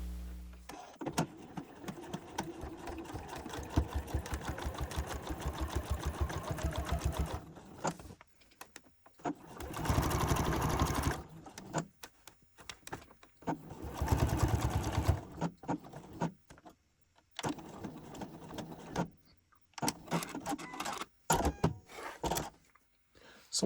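Sewing machine basting a welt onto a pocket piece for a garment, running in a long steady whir, stopping, then restarting in shorter bursts with quiet pauses between.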